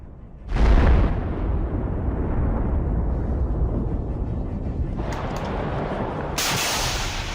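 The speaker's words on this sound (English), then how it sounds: "the Russians noticed the approaching Bradley and launched a Kornet missile" A Kornet anti-tank missile strikes a Bradley armored personnel carrier in a war zone: a loud, close blast erupts near the start and leaves a heavy sustained rumble, and further sharp bursts follow toward the end.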